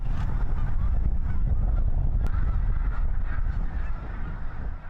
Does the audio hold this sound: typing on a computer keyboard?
no